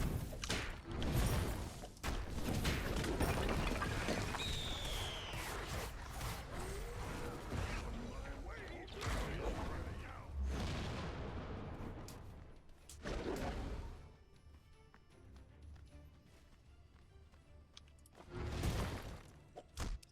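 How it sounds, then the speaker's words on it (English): Smite match sound effects, a dense stream of thuds, impacts, whooshes and mechanical clanks with bursts of explosions, loud and busy for much of the stretch before thinning into quieter gaps and a final burst. "Just enjoy the ASMR of Smite sound effects."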